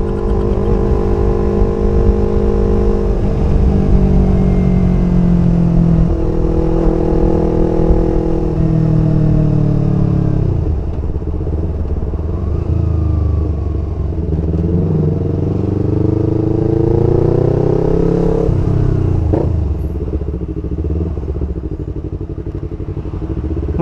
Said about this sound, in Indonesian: mending dengerin knalpot DMS